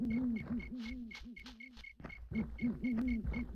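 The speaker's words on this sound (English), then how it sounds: "We have the hooting of an owl." Repeated owl hoots sound through the night ambience of the fantasy video game Aidyn Chronicles, a steady run of low, rounded calls, fairly close and clear, with a faint high chirp ticking in rhythm behind them.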